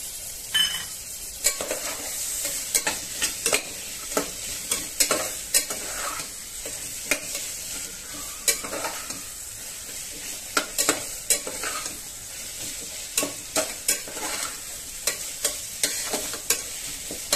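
A chopped potato is stirred into a hot pan while making palak pulao, a steady sizzle of frying under repeated scraping clicks of a spoon against the pan, close and continuous with no talk.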